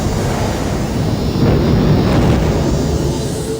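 Deep, sustained rumbling roar of a type 1 supernova explosion sound effect, a loud continuous low boom with windy texture that swells slightly midway and holds steady throughout.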